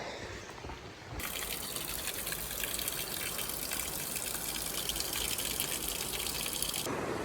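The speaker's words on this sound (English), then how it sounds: "look at the river. It's flowing nicely" River water rushing and gushing steadily along a trail in Oregon, a loud broadband flow that swells in after a second and holds constant, heard close and alone.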